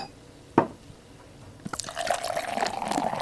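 Draught beer pouring from a tap in a Parisian brasserie simulator game, a single click followed after a pause by a gurgling stream of liquid filling a glass that rises and continues to the end.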